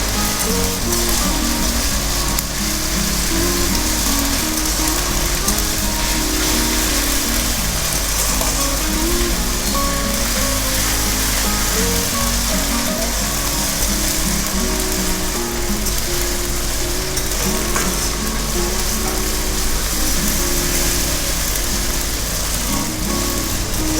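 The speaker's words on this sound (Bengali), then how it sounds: "ভালো করে ভেজে নিতে হবে যেন আদা রসুনের গন্ধটা না থাকে" Ginger garlic paste frying in a pan for a sweet-sour-spicy sea crab dish, a loud, continuous sizzle and crackle of hot oil holding steady from start to finish.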